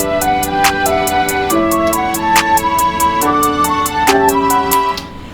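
A beat built in music software, with a clap sample hitting on every note: bright, evenly spaced claps above a sustained melodic pattern of shifting tones, dense and loud with no speech.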